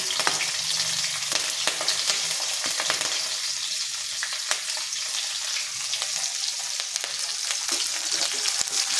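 Ginger paste and green chilies frying in hot oil for upma, a steady close sizzle with occasional scraping stirs, continuous and fairly loud throughout with no talking.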